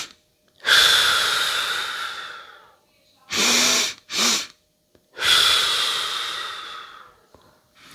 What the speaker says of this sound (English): The physiological sigh. And it's a double intake with a long exhale.